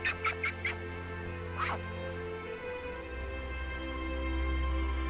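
Ducks beside a river in Tongling, Guangxi give a few short quacks near the start, with one more call a moment later, then fall quiet over a steady low background hum.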